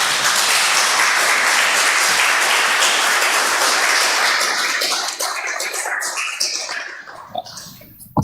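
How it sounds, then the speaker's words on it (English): Conference audience applauds and cheers in a dense, loud wash of clapping that holds steady, then thins out and fades toward the end. "let's give him a round of applause"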